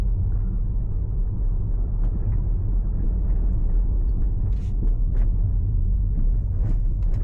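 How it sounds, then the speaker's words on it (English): Tesla Model Y rolling over a speed hump, heard as steady low road rumble and cabin drone with a few faint knocks and thumps from the suspension, close and continuous with no talk. "Let's find a speed hump to go over."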